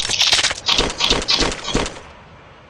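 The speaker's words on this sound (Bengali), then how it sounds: "পিছনে গুলি করতেছে, পিছনে গুলি" Gunfire in the mobile battle game Free Fire comes as a quick burst of about half a dozen loud, sharp shots in rapid rhythm over two seconds, then drops to near silence.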